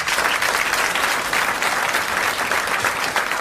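A studio audience applauds in a dense, even burst of clapping that stays loud and steady throughout, with no voices over it.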